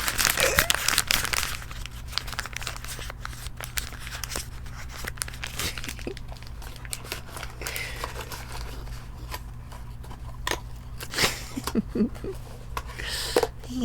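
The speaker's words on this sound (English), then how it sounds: "Nothing, I was just making a crinkly sound." Packaging crinkled up close for ASMR, a continuous crackling and rustling with sharper crunchy bursts scattered throughout, over a low steady hum.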